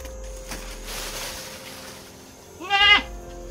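A single goat bleats near the end, a short wavering cry after a few quiet seconds of faint background noise.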